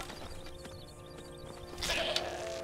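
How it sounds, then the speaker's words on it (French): Goat bleats in the video game Skyrim, heard as a short clear bleat near the end over a busy background of game ambience and music. "Non, la chèvre revient!"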